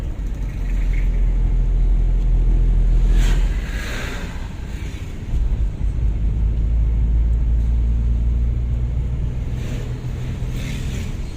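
A car drives a straight road from the Air Sebakul fuel station toward Pagar Dewa in Bengkulu, heard from inside the cabin as a steady low engine and road rumble that dips briefly, then returns.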